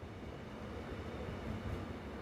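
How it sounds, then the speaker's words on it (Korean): A train rolling across a bridge over the Bukhangang River on the Jungang Line, a steady low rumble of wheels and cars that holds even and continuous from start to finish. "강물을 가로지른 다리 위로 열차가 지나간다."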